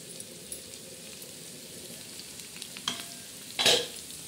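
Onion roasting in a pan, a faint continuous sizzle with scattered light stirring scrapes and one louder scrape near the end, close and quiet, with no voices.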